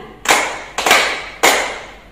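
Children at a Sunday school service at HKBP Maranatha Cilegon clap together in three sharp group claps, evenly spaced about half a second apart, loud and close.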